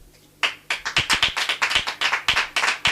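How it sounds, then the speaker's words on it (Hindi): A congregation at a prayer service claps hands after a short quiet start, sharp close claps in quick, slightly uneven bursts that carry on until the end. "एक बार जरा संत पौलुस के लिए मैं चाहता हूं आप ताली बजाएं।"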